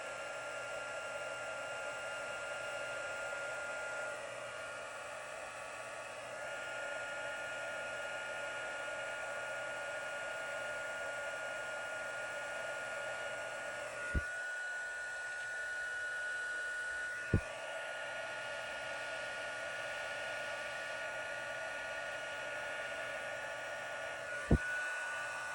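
A heat tool blows hot air to heat-set stamped ink on Christmas Noel stamping, a steady whooshing hiss that runs unbroken, with a few faint knocks near the end and no talk.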